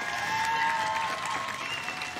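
Audience applause at the Strážnice folk festival finale for dancer Marek Kraus, a dense steady wash of clapping across a large crowd, loud and continuous throughout with a faint thin tone running beneath it.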